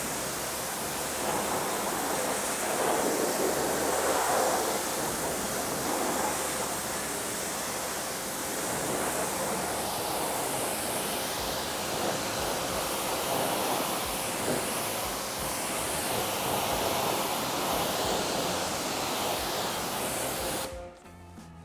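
A steady spray of water rinses dirt from a car wheel and tire, a broad continuous hiss lasting about twenty seconds before cutting off abruptly, close and alone.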